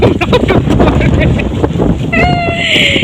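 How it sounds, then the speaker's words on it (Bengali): Gusty wind after a cyclone buffets the microphone with a steady low roar, while a voice talks over it and a brief high whistle-like tone appears near the end. "কি সুন্দর হাওয়া দিচ্ছে"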